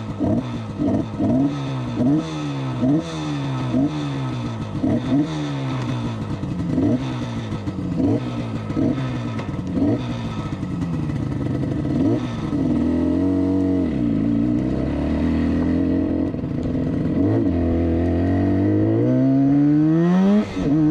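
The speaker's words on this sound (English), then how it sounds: "All right, take the RD250 on a test ride" A 1970s Yamaha RD250 250cc motorcycle rated at 30 hp on a road test ride. It revs hard through repeated rising gear pulls, then eases off and picks up again, loud and close throughout.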